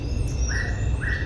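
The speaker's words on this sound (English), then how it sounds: "So, I love birdsong." Birdsong outdoors, two clear rising chirps about half a second apart over steady low background rumble.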